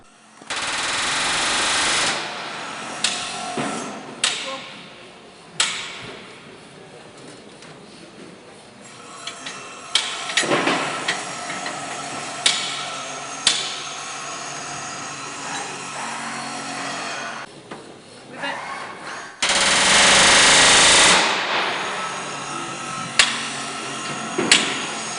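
A rivet gun setting countersunk rivets in the aluminium skin of Lancaster bomber NX611 under restoration, rapid loud hammering bursts of varying length, some long and sustained, others short, echoing in a workshop.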